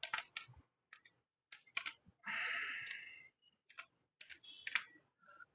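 Someone types a Linux terminal command on a computer keyboard, with irregular bursts of clicking keystrokes, brief pauses, and one longer rushing sound partway through, close and clear.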